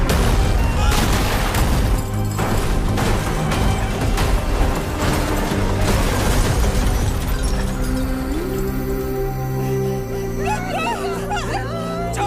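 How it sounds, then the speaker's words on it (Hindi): Loud gunfire bursts from an action movie scene, booming over a dense, dramatic music score that runs throughout with no pauses. "एक ही तो गोली चली है"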